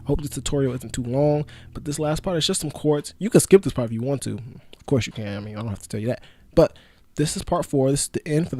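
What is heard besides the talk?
No everyday noise stands out behind the speech.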